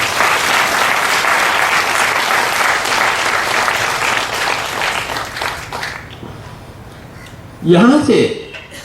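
Loud, sustained applause from a crowd at a spiritual talk that fades out over several seconds, followed by a brief spoken voice.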